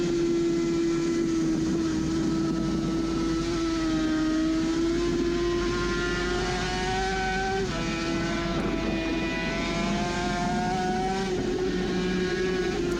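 Onboard a Team Classic Suzuki RG500 racing motorcycle at Glen Helen, its two-stroke engine wailing loud and steady close to the mic, pitch climbing and dropping through gear changes with no talk.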